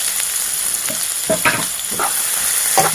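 Chopped onion and green chillies fry in hot oil in a kadai, a steady close sizzle with several stirring scrapes and clacks spaced through it, no speech.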